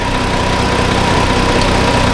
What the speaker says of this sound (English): this essentially has no load on, just the engine's running